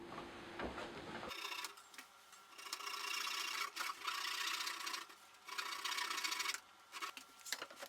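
A thin hand saw cuts through a wooden plug for a shoe-holding bench, making close, steady rasping strokes in several sustained bursts with short pauses between them.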